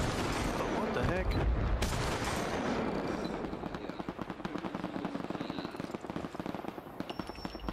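Crackling bursts of gunfire in a battle royale shooter, a busy clatter of shots blending with game announcer voice lines and a player talking.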